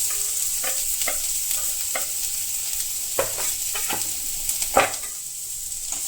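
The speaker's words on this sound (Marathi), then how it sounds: "थोडंसं तेल टाकायचं त्यामध्ये आपण कांदा परतो" Onion sautés in a little oil for chicken rassa, a constant soft sizzle broken by a series of scraping stirs from a spoon against the pan, close and steady.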